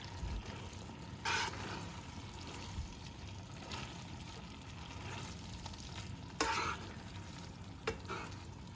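Cooked spaghetti is tossed and mixed in a pan with soft, wet stirring and a faint sizzle, broken by a few brief scrapes of the utensil. The sound is quiet, with no speech.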